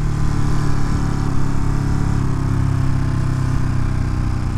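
A 2022 Ducati Monster Plus motorcycle engine running loud and close in traffic, a steady low throbbing rumble that holds without big revs for several seconds.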